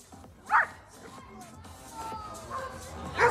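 A dog gives two sharp barks at a dog training demonstration during an outdoor animal welfare day event, one early and one at the end, with a person talking in between.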